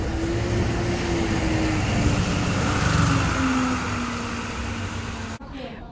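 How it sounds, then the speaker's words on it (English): Heavy vehicle engine droning on a steep, narrow old-town street in Lisbon's Alfama, a steady low hum that rises and falls as it climbs, loud and close for most of the stretch before cutting off abruptly near the end. "How on earth did buses get up here?"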